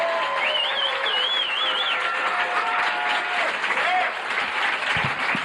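Steady, dense applause from a comedy club audience greeting a stand-up comedian as he takes the stage, continuous and full throughout with a faint whistle over it.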